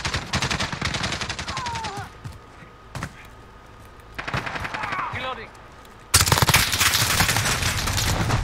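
P90 automatic gunfire in Modern Warfare, rapid loud bursts with short pauses between them, close and sustained, with a voice briefly heard between bursts.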